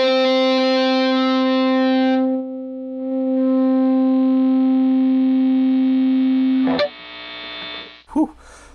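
A Line 6 Helix guitar processor running firmware 2.60 holds a heavily driven, distorted guitar note with steady hiss beneath, which swells, cuts off abruptly, and ends in a few short noisy bursts.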